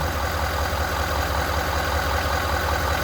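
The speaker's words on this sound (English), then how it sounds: "I'm going to bump the RPM up to 1200" A Ford 6.7 Powerstroke diesel engine holds a steady raised idle of about 1200 RPM, an even, continuous drone with no talking.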